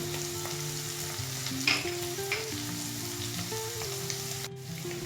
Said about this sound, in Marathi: हे मिश्रण आता चांगलं तेलात परतलं गेलेलं आहे